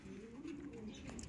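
Pet pigeons or doves coo softly nearby, a low rolling call with a gently rising and falling pitch, faint and alone with no voices over it.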